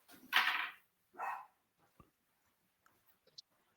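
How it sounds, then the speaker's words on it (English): A neighbour's dog barks twice in quick succession, loud rough bursts a short distance away, followed by a few faint clicks and taps in an otherwise quiet room. "It sounds like his dog's going nuts over there."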